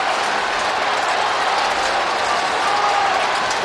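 Football fans at a Melbourne versus Fremantle match roar and applaud after a goal, a dense, sustained wash of clapping and cheering from a large crowd, heard from a distance under light commentary.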